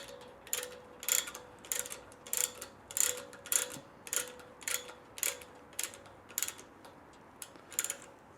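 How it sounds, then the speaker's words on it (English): A chain fall hoist hung from a forklift is operated in a shop, giving a faint, evenly spaced series of metallic clicks and clanks at a steady rhythm, heard alone without talk. "So I put the chain fall up on the forklift"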